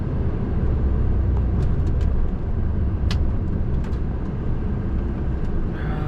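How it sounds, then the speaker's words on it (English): Heavy road traffic with many cars makes a constant loud, close rush of engine and tyre noise, with a few faint higher clicks and no voices. "A lot of cars."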